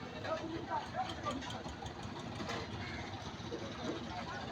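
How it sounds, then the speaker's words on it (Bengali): A passenger trawler's engine idles at a riverside fish-landing ghat, a low, steady mechanical chugging with faint knocking that runs continuously under background voices and general ambient noise. "একটি যাত্রীবাহী ট্রলার এসেছেন মাছ নেওয়ার জন্য"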